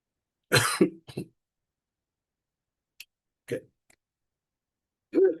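A man coughs several times in short bursts, with a few faint throat clicks between them, in a quiet room during a talk on Buddhist teachings, the coughs close and fairly loud.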